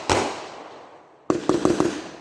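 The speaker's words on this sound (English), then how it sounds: "they definitely use these at fireworks shows and stuff." Fireworks at a firework show: one sharp bang, a fading crackle, then after a pause a rapid burst of four loud cracks in quick succession, close by.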